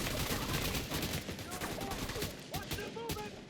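Rapid gunfire bursts from a hard-recoiling weapon in the shooter The Division 2 crackle close and loud, with a brief voice surfacing partway through.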